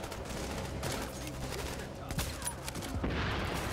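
Gunfire in a shooter video game on a hard-difficulty mission at Grand Central Station, a dense run of overlapping shots and bursts carrying on steadily at close range.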